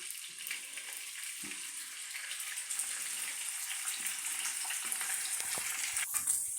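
Bacon sizzles in a frying pan for a Jamaican-style home breakfast, a bright continuous hiss with scattered crackles and pops, close and steady with no voices.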